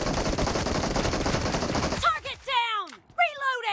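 Gunfire in the mobile battle-royale game PUBG Mobile: a rapid, loud burst of automatic shots for about two seconds, then fading into game sounds and a speaking voice.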